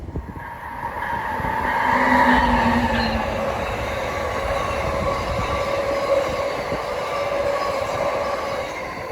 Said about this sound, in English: Coming into the station, nice unrestricted horn on that DP.